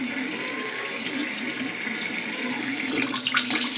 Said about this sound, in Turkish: sıcak suyla ve sabunla etrafındaki ölü deriyi alıyorum.